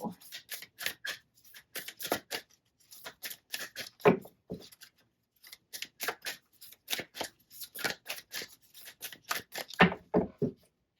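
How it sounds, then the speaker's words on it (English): A deck of tarot cards shuffled by hand in a quiet room, giving repeated bursts of crisp riffling and slapping with short pauses between them. "we're going to give it another good shuffle"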